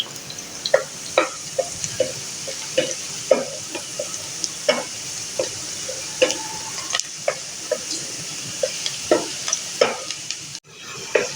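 Lightly browned onions sizzle in a frying pan while a utensil stirs and scrapes them in repeated clicks and taps, steady and close, with no voices.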